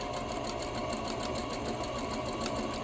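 A sewing machine double-stitches a fabric cover, running as a steady, fast, continuous mechanical whir without pause, fairly quiet and alone.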